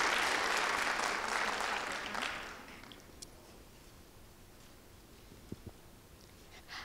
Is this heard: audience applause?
yes